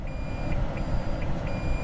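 Reverse warning of a Toyota Prius beeps in a steady, evenly spaced series of short high tones, about three in two seconds, heard from inside the car over a low hum.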